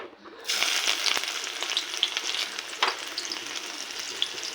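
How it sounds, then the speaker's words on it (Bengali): Onions dropped into hot oil with dried red chillies, bay leaf and whole cumin erupt into a loud, steady sizzle after a brief quiet start, with occasional stirring scrapes and pops throughout. "এখন একটা ছোট্ট পরিমাণ মতো পেঁয়াজ দিয়ে দিব"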